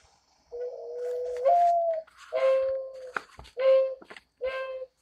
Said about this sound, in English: But these are mourning doves. I'm going to play their call again so you can listen to it.